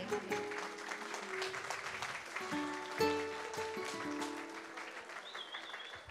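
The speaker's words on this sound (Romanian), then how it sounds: "Vă rog frumos să-i aplaudați pe părinți." Audience clapping for the parents at a baptism party during the parents' dance, steady applause layered over live music with sustained tones and a brief swell near the middle.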